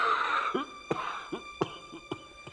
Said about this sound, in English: You have a terrible cough